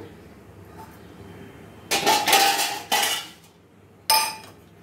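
The metal lid of a kadai cooking pan is lifted and handled, giving several sharp, close metallic clanks and rattles in short bursts, with quiet room tone between them.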